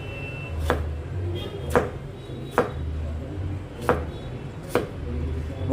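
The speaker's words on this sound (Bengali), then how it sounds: "শসাটাকেও কেটে নেব এরকম করে।" Knife chopping a cucumber on a cutting board: five or six crisp, evenly spaced chops, close and moderately loud, over a quiet background with a faint low hum.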